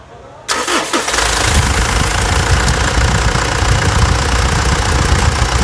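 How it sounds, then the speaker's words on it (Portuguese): Mitsubishi Pajero Dakar with a 3.2 4M41 diesel engine cranking and catching, then settling into a loud, steady, rough idle that runs alone to the end. "escutar a melodia. Turrada do motor 4M41 aqui da Pajero Dakar."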